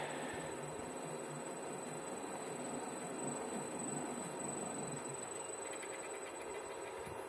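Self-running generator spinning at higher RPM, a steady continuous mechanical hum and whine with a constant rattle, close and loud, with no speech.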